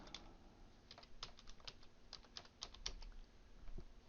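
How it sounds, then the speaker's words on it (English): A search being typed on a computer keyboard: a quick, irregular run of close, soft key clicks lasting several seconds, with no talking. "go to Google, go to Images, type in woodworking"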